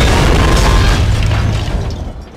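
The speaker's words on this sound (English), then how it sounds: "A furious land mattress barrage seems to be all I've got at the moment" Land Mattress rockets from a barrage in the WWII strategy game Men of War: Barbarossa burst in a dense, loud rumble of overlapping booms that fades slightly toward the end.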